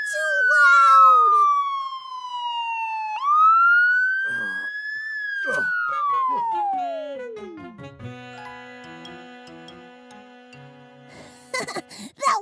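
A cartoon police car siren in Caillou wails, sweeping down, rising, then falling away sharply, followed by quieter tonal beeps and a few short bursts near the end.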